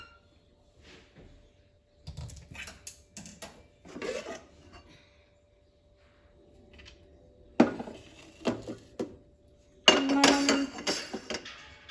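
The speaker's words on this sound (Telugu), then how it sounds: "ఈ గిన్నెలు ఇప్పుడు మనం పక్కన పెట్టేసుకుందాం" Metal cooking bowls are shifted and set aside in a kitchen after the stove is turned off, giving scattered clinks, scrapes and knocks in short bursts with quiet gaps, louder toward the end.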